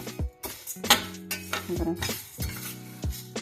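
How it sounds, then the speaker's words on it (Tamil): Whole black urad dal roasting over a low flame in a pan, with a spoon repeatedly scraping and clinking against the metal in uneven strokes, accompanied by a steady background hum. "இது நல்ல சிம்மில் வச்சு வறுக்கணும்"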